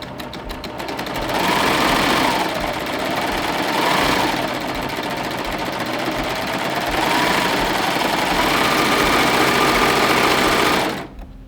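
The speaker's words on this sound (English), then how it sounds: "Bring it in and start to serge." An air-threading serger doing a 3-thread overlock on fabric, whirring at a fast, steady buzz for about ten seconds with slight swells in speed before stopping abruptly.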